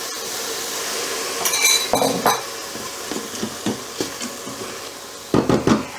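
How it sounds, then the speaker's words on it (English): Tikka masala sauce for cauliflower sizzles quietly in an Instant Pot while a utensil scrapes and clinks against the sides in irregular strokes. "And just keep on frying for a couple more minutes."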